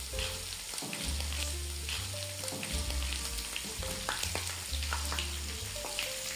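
Steady crackling and sizzling of green and round red chilies frying in hot oil for a dal tempering, close and continuous, with occasional pops and no voices.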